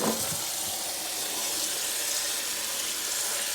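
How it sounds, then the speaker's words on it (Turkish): Hot water pours steadily into a container, a continuous splashing, gurgling stream close by with no talking. "Şimdi sıcak suyumuzu buna koyuyorum."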